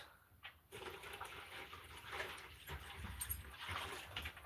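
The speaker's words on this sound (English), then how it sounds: "Fill up the water bowls." Water rushes and splashes as dog water bowls are filled outdoors at a husky family's home, a continuous close pouring sound at low overall level with a brief pause near the start.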